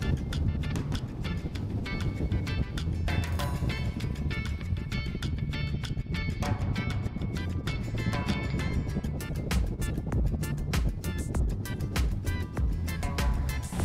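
A motorboat being driven across water, with a steady engine rumble and broadband rushing noise from the hull and spray. The boat sounds close and constant throughout, with no voices.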